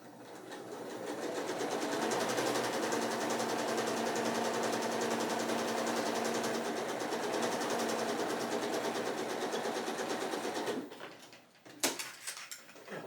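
A sewing machine runs a long steady seam a quarter inch beside the diagonal lines of a quilt block, a soft continuous whirr with no talk that stops near the end, followed by a few light clicks.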